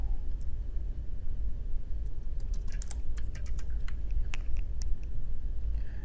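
Clicky computer keyboard keys tapped while a command is typed on a server terminal, a short burst of irregular keystrokes over a steady low hum, fairly close and moderately quiet.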